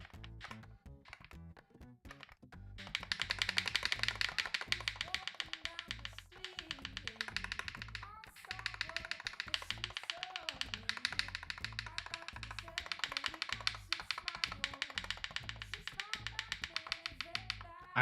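Steady, quiet typing on a modded Wooting 60HE+ keyboard with swapped keycaps, a close run of crisp clacks and taps that pauses briefly and then continues at an even pace.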